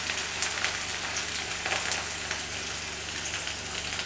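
Onions and ginger fry over medium flame in a pan for a chicken Manchurian, a close, steady crackling sizzle with no talk.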